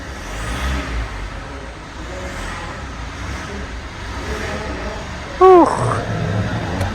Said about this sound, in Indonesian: Kita gas. Tuh turbonya wushing.